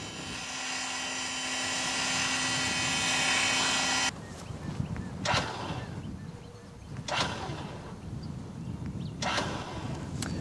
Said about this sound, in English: give my hand signals for the standard winching and tell the driver to winch in